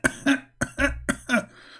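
A person coughs three times in quick succession, each cough a harsh double burst, close and fairly loud with no speech.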